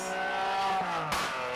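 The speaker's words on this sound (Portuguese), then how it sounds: "Dá uns tiros do escape, mano." A car engine hums with a steady tonal drone, then fires off one sharp, loud exhaust pop about two-thirds of the way through before the engine note settles again.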